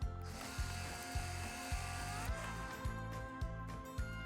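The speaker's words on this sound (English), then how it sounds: "turn the mill upside down, press the grind button, and this will help release any of those fragments" A FinaMill electric spice grinder runs upside down to clear a spice jam, giving a loud, close mechanical ratcheting whir with regular clicking pulses about twice per second.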